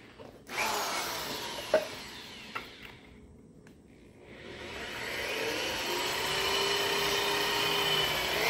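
A power tool drives a bolt to fasten a forged armoring tool down to a half-log table, whining up in two bursts with sharp knocks between, pausing, then spinning up again into a long steady whir.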